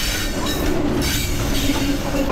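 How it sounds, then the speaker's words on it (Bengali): The moving Chattala Express intercity train in Bangladesh rolls loudly near Dhaka Airport station, its steady rumble and wheel clatter carrying a thin, sustained metallic squeal of wheels on the rails. "ট্রেন কিন্তু একটা বিশাল কার নিয়ে যাচ্ছে,"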